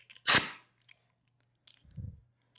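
Air hose being plugged into an air tool swivel fitting: one sharp, bright pneumatic snap-hiss up close, followed by a soft low clunk a moment later, otherwise quiet.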